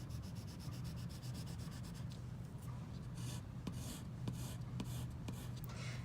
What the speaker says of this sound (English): you can use the back end of a paintbrush. So the wrong end of a paintbrush to scratch in.